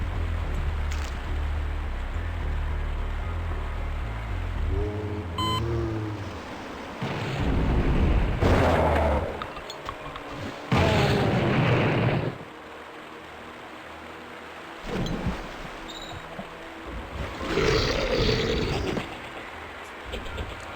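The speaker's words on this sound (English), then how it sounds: "The Cabal figured out trip bombs." Trip bomb explosions in the game Blood: several deep, booming blasts with rumbling tails, separated by quieter stretches of low ambient rumble.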